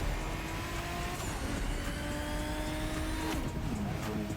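A car drives in The Crew Motorfest, with a steady engine drone and road noise rolling along at even loudness. Brief tire squeal and gear-shift changes surface near the end, and no one speaks.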